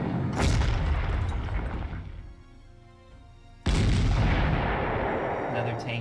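A tank is destroyed by artillery fire in the strategy video game Panzer Corps, two loud booming blasts separated by a brief quieter lull, each followed by rumbling decay.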